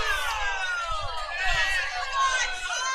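A baseball crowd at a collegiate game murmurs and calls out in a continuous, fairly close babble of many voices reacting to a close play at first base.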